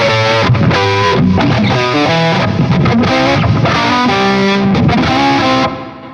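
Distorted electric guitar from the vintage rig example preset in Riffendium X plays a loud, bluesy rock riff with chunky chords and short melodic runs, dense and continuous before fading at the end.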